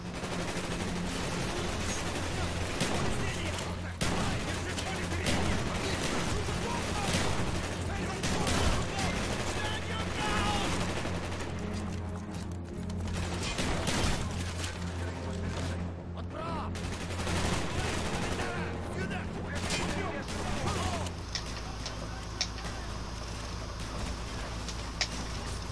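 Rapid bursts of gunfire and shotgun blasts from Call of Duty: Black Ops fill a zombie-style firefight, dense and continuous with scattered louder hits over steady game noise, broken by occasional talk.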